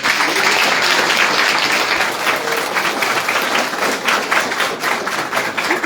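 Quiz audience at a Himachal festival event at a school in Shimla breaks into sustained, dense applause, loud and steady throughout with a faint voice underneath.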